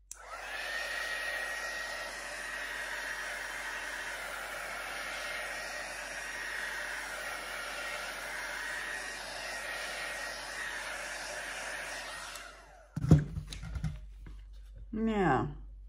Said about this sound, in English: just hit it with the heat gun again